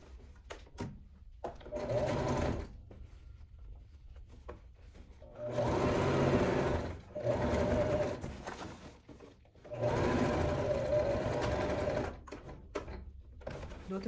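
Sewing machine stitching nylon bag pieces built from joined milk cartons, motor running in several loud bursts of a couple of seconds each, with short pauses between runs, close up.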